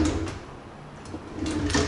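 A kitchen drawer under a countertop slides open, giving a couple of short scraping, rattling bursts with soft bumps between them, close and moderately loud with no talking.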